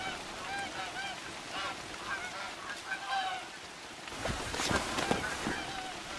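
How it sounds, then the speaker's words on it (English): Geese honking in the hunting game theHunter: Call of the Wild, a flock calling in repeated overlapping honks at middle distance, followed by a louder burst of splashy noise near the end. "ducks and geese have been fixed and now respond to calls"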